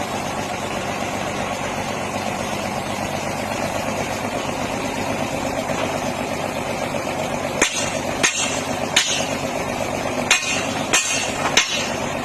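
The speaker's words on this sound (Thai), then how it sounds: "เราต้อง จ้างช่าง มาเจาะบาดาลนะครับ" A groundwater well drilling rig runs with a steady engine drone, and from the middle on a series of sharp metallic clanks and knocks rings out irregularly over the continuous hum.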